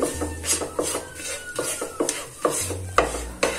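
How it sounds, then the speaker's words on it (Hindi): Ground cumin roasting in a pan while being stirred for moong dal kachori filling; rhythmic close scraping and clinking strokes of a spoon against the pan over a faint sizzle, no speech. "जीरा डालकर अच्छे से भून लेंगे"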